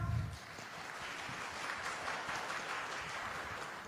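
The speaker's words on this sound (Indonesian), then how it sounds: "Boleh tepuk tangan teman-teman perempuan dong?" Crowd applause at a digital-industry event in Indonesia, a steady wash of many hands clapping at moderate loudness, continuous for the whole stretch after a brief low thump at the start.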